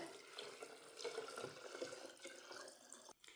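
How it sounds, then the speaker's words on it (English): Water pours steadily into a jar of sweetened tea for homemade kombucha, a continuous close splashing and trickling that runs for about three seconds before cutting off abruptly. "Add the other half of my gallon to that jar."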